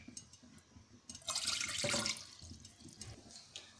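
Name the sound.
water poured into a pan for kahwa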